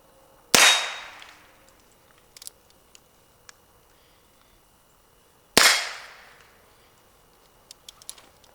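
A revolver fired one-handed at a target lets off two loud, sharp shots about five seconds apart, each with a ringing, decaying echo, separated by faint small knocks and handling noises.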